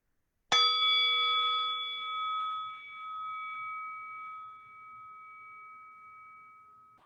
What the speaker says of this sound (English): Receiving the sound of the bell